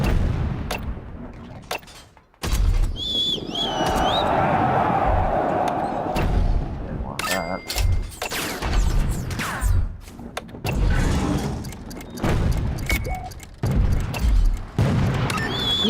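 Mortar shells and artillery blasts boom repeatedly in the Toy Soldiers video game's British campaign, with loud thuds and gunfire-like cracks layered over a continuous battle din, and a brief quiet gap before the barrage resumes.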